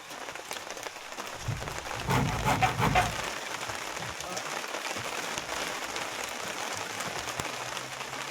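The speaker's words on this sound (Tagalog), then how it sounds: "ang lalaki ng patak na ulan" Heavy rain with large drops pours down steadily outdoors, a dense continuous hiss with a louder surge of nearby splashing in the middle, and someone talks briefly under it.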